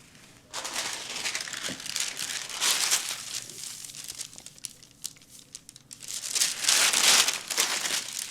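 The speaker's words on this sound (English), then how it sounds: "So I can cut this in two or cut it appropriately." Scissors cut through muslin fabric for a sewing skirt prototype: long, crisp crunching swishes that rise and fall in strokes, close up and fairly quiet, with no talking.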